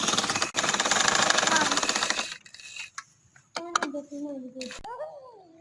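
An electric sewing machine stitches a trouser seam in a rapid, loud mechanical rattle for about two seconds, then stops, followed by a few short clicks and brief talk.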